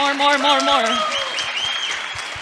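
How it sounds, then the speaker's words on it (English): An audience claps after a startup pitch at a founders competition, a moderate wash of applause that opens under a loud, drawn-out voice before continuing more softly on its own. "I think the applause has not been more deserved today"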